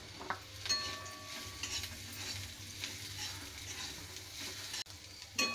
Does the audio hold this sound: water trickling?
no